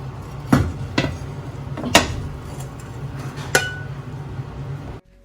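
Metal tava set over a pan for flipping a prawn bread layer in a home kitchen, with a few sharp separate clinks and knocks of metal on metal over a low steady hum.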